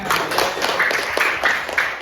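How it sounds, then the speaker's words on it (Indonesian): Classmates in a school classroom clap their hands together, a quick, fairly loud patter of overlapping claps running steadily throughout with faint voices mixed in. "Tepuk tangan dulu teman-teman."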